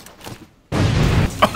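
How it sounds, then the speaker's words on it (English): An explosion in the video game Monster Hunter World bursts in suddenly after a quiet stretch, a loud, deep, rumbling boom that holds steady for most of a second with a sharper crack near its tail. "Explosion, actually."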